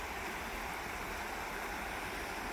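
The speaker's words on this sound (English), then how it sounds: "As we get towards Kirby, the river gets very wide." The River Lune flows wide near Kirkby, giving a steady, broad rushing wash of water that stays constant and fairly close throughout, with no voices.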